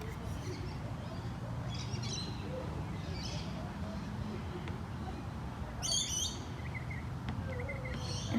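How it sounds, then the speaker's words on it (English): Birds chirp and call faintly in the distance over a low outdoor rumble, with a brief burst of bright tweeting partway through. "if you're really quiet, you can hear a whole lot of other birds as well."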